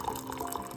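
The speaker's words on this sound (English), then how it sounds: "So I'm topping them off with hot water" Hot water pouring into glass canning jars packed with two kinds of beans, a steady close liquid trickle and fill sound with no talk.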